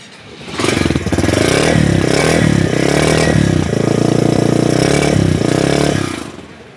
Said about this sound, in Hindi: अब टाइम है इसका साउंड भी चेक सुना जाए और इसका सेल्फ स्टार्ट भी चेक किया जाए।